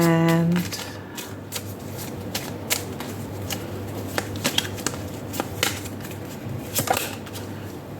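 Cards from an old style Lenormand deck are shuffled in a steady run of soft riffling flicks and taps, close up and fairly quiet, with a low hum running underneath and no voices.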